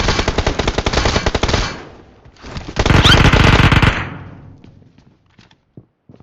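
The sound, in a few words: gunfire in a video game shootout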